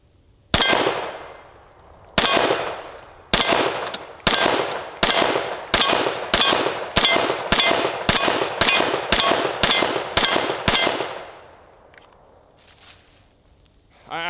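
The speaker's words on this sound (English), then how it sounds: "Let's shoot another magazine." Fourteen .45 pistol shots ring off a steel target, each a sharp gunshot with a metallic clang, fired at an even pace over about ten seconds and then fading to quiet.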